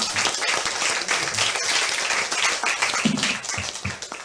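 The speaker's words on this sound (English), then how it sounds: "Another round of applause, please, for Dr. Lehman." An audience at a debate applauds continuously after a speaker finishes, a dense, steady clatter of many hands.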